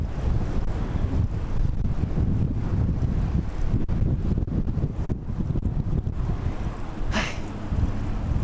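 Steady, rough wind buffeting the microphone while riding slowly down a main road at about 7 miles an hour, loud and continuous throughout.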